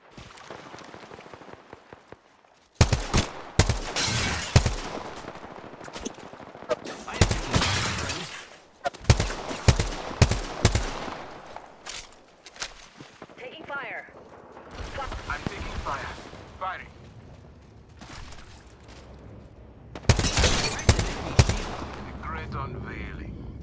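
Bursts of automatic gunfire in a battle royale video game match crack out in separate loud clusters with gaps between, while a player talks over the fighting.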